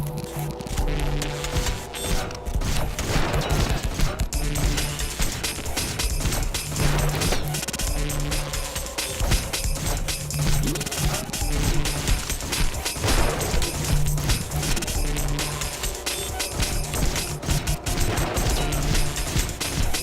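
Dense, continuous gunfire and crossbow shots mix with crashes and mechanical clatter during a busy fight in the Hunter: The Reckoning video game, loud and unbroken throughout.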